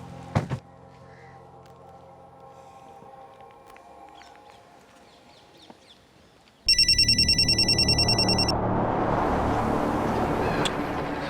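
After a quiet stretch with a few clicks, an electronic telephone ringtone bursts in and trills continuously, loud and close.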